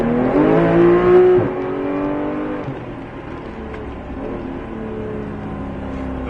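Porsche 991 GT3 engine on a race circuit, a loud close revving drone with rising harmonic sweeps as it accelerates, a brief dip around gear changes, then a steady sustained roar.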